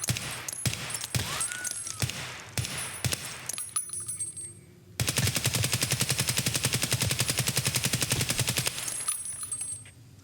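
An AKS-74UN rifle in the video game Escape from Tarkov fires several sharp single shots with metallic handling clicks, then a long, loud rapid automatic burst before tapering off.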